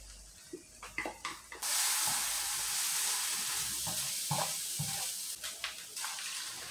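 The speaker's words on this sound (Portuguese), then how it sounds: "Vou adicionar agora o molho de tomate." Tomato sauce poured into a hot pan for a soy and cashew pie, bursting into a loud, steady sizzle that hisses on for several seconds, with some tapping and clinking of utensils before and during.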